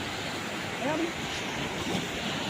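Steady ocean surf rushes along the shore with wind noise over it, and a faint voice briefly comes through.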